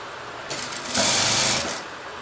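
A sewing machine stitches a blouse seam in one short burst, its motor whirring up quickly, holding a steady buzzing run for about a second, then winding down, close and fairly loud.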